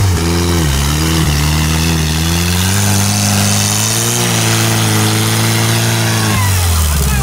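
Buggy engine at a dune buggy club meet, revving loud and close with smooth rising and falling pitch sweeps over a steady rough idle, running continuously throughout without pause.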